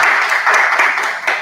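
An audience at a trans fashion and health expo applauds, a dense, steady patter of many hands clapping close and loud throughout.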